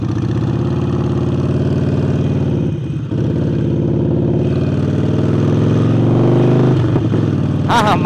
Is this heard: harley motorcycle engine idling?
yes